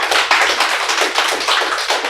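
Audience applause at a live podcast taping in Bordeaux Wine Bar, a dense, close wash of many hands clapping steadily throughout.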